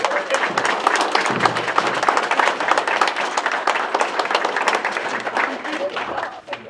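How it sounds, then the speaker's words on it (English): Sustained applause from a crowd at an honor society induction ceremony, dense steady clapping that carries on for several seconds before tapering off at the end. "Let's have one more round of applause for the new inductees"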